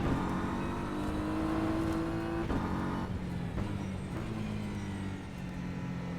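BMW GT3 race car in a racing video game, engine holding a steady loud drone, with a few shifts in pitch as it changes gear or speed.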